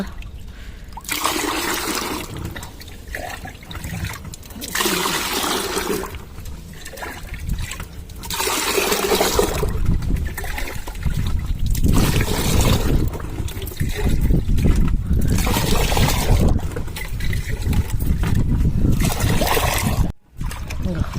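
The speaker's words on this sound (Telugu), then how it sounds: "మనం పది లీటర్ల వాటర్ పోసుకోవాలండి" Ten litres of water are poured into a starch mix, a sustained splashing and gurgling pour in several long bursts, with a voice speaking over it.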